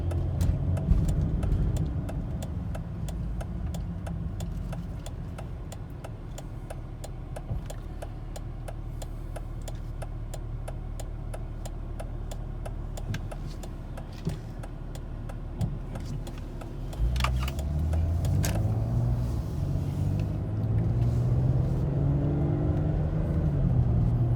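A Volvo XC90 with 245k on the clock climbs a hill after a transmission fluid change, its engine droning steadily with a rising pitch around the gear change near the end, heard from inside the cabin.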